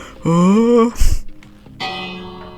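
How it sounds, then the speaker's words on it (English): A bell is rung from its rope in the Minecraft Create Mod, in a Mutiny Bay theme-park build modelled on Alton Towers. It gives a sustained ringing tone, a sharp bright strike, then another softer ring, loud and close with no talk. "You have to get on the rope and ring the bell."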